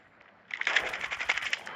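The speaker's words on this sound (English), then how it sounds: "ఒట్టిగానే ఇట్లా fire button వస్తే bullets వెళ్ళిపోతూనే ఉన్నాయి" Rapid burst of Call of Duty video game gunfire, dense crackling shots firing continuously after a brief quiet start, fairly loud and alone.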